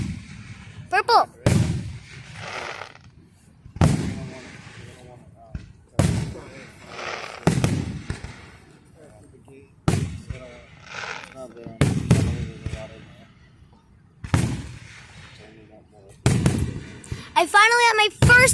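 Fireworks show explosions, a series of loud booming bursts spaced every couple of seconds, some with whistling and crackling tails, while excited voices talk and cheer between the blasts.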